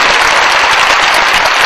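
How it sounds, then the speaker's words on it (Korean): A church congregation at a Korean revival meeting bursts into loud, dense applause, a continuous wash of many hands clapping at close range for the whole moment. "우리 한번 사모님께도 감사의 박수 한번 뜨겁게 한번 부탁드리겠습니다."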